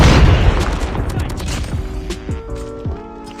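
AS VAL assault rifle hip fire at close range in Call of Duty: a rapid burst of booming shots opens, then fades into echoing tails as a brief voice-like tone comes through.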